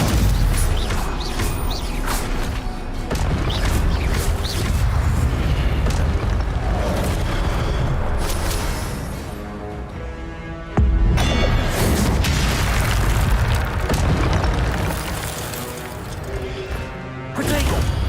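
Booming spell impacts from the wizard game Hogwarts Legacy, loud repeated crashes and bursts in a dense combat mix, with two brief near-silent gaps and speech mixed in.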